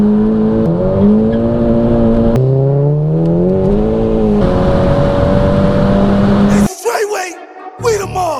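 A 355 bhp Volkswagen Mk5 Golf GTI engine revs from inside the cabin during a ride, with clear rising and falling harmonic tones as gears change, then a sharp burst of louder revving at the end.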